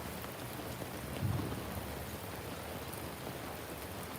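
Steady rain falls at an outdoor graveside service, a dense, even hiss of drops on surfaces with a faint low thump partway through.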